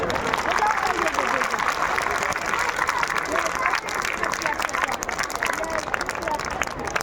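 A school audience claps to cheer on students before a performance curtain rises, a loud, continuous wash of many hands with crowd murmur and a voice briefly audible beneath it.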